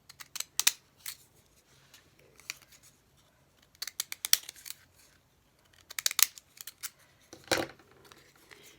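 Scissors snip paper ephemera for a palmistry journal, giving sharp, close cuts in short bursts of several snips separated by quiet pauses.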